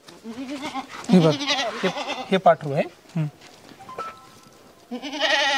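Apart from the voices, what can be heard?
goats bleating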